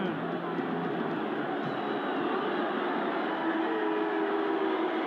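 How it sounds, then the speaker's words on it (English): A full-time hooter sounds at a 1987 State of Origin rugby league match between Queensland and New South Wales, a long steady tone over dense crowd roar with a commentator talking. "Full-time hooter is sounded."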